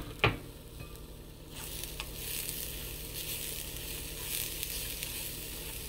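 Grated coconut fries in melted sugar in a pan for a sweet, with a soft steady sizzle and stirring scrapes, quiet and close, preceded by a sharp clink of a utensil and no talking.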